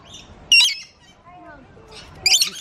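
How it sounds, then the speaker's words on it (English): Lorikeets in a zoo bird enclosure give two loud, harsh squawk bursts close by, with quieter chatter and soft talk from people in between. "We're just in the bird enclosure, and these are, what are these called, Ant? Parakeets. Lorikeets"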